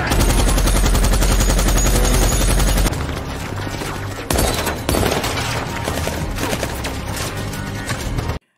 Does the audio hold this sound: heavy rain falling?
no